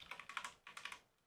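Quick bursts of typing on a computer keyboard during a C programming lesson, a few close, crisp keystroke clusters with a short pause between them, quiet and without talk.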